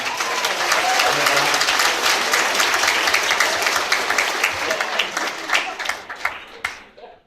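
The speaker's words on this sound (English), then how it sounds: "just give her a round of applause" Guests at a wedding applaud a best man speech, with loud, sustained clapping from the crowd that thins out and fades near the end.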